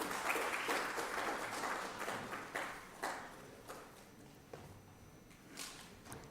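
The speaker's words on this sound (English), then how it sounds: "Let's have a round of applause, please." Audience applause at an indoor brainstorming meeting on weed management, clapping loud at first and thinning into scattered claps that fade out.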